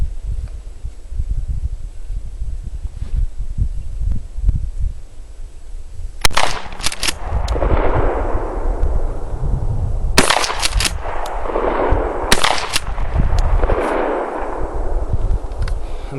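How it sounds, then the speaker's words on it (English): A Mossberg 590 shotgun with a Blackhawk stock fires Winchester slugs at silhouette targets 25 paces away, several loud, sharp blasts with ringing tails spread across the stretch, the loudest shots near the end. "3 shots with the Mossberg at 25 paces with Winchester slugs."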